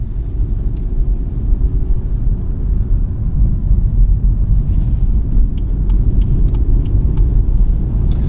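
Trucks roll slowly past on a village road near Great Waltham, giving a loud, continuous low engine rumble up close with light rattles and clanks on top, and no voices.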